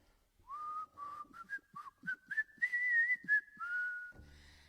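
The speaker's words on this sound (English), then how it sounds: "the cool thing about this mask is you're able to whistle in it. Here, I'm going to whistle." A person whistles a short, wavering tune while wearing a face mask, the notes clear and close, rising and falling in quick phrases before ending in a soft breathy rush.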